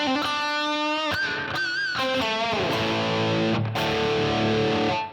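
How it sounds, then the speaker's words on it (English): An electric guitar plays a crunch tone through a Line 6 Pod Express, distorted chords and sustained notes ringing loudly in quick changes, with a brief choked break before a final strummed chord fades. "This is what I like the crunch tone."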